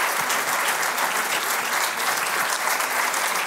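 Applause for Javier at a Celedones de Oro conference, a loud, even wash of clapping from a hall audience lasting throughout.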